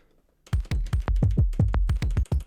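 Buttons on an EP-133 sampler are pressed in quick succession, about a dozen sharp plastic clicks and thumps in an uneven rhythm, close and distinct, after a brief quiet start.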